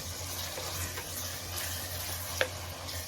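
Salted cauliflower and potato curry being stirred in a pan, a soft steady sizzle with faint scraping and one brief clink near the end, heard alone at low level.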